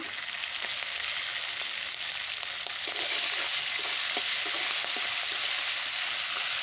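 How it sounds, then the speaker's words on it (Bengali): Prawns fry with browned onions in oil, giving an even, close, constant sizzle with light stirring scrapes and no talk. "তেল ও পেঁয়াজের মধ্যে চিংড়ি দিলে চিংড়িটা ভাজা ভাজা হয়ে যায়"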